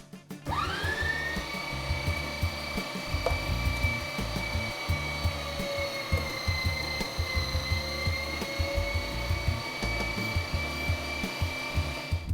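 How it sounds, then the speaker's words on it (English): A Weston electric meat grinder mincing venison, a steady whining motor hum that starts up and runs continuously with grinding and churning underneath, loud and close. "Back to my little friend here, my little meat grinder from Weston Products"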